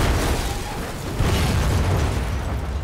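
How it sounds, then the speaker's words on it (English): A loud, roaring explosion from the video game Resident Evil 6, a dense rumbling blast that fills the whole moment and holds steady for a few seconds without any voices. "Kaboom."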